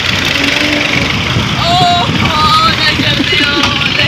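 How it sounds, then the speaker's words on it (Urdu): A tractor engine runs steadily close by during heavy wood loading, giving a continuous mechanical drone with faint higher whines over it and voices talking. "ایڈ کر لے اے دو ٹریکٹر آ گئے نو"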